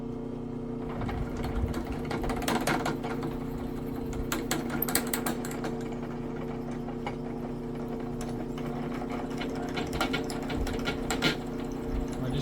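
Power drill boring out upper control arm bushings, a continuous whirring motor drone with irregular grinding and chattering bursts as the bit bites, close up and with no talking.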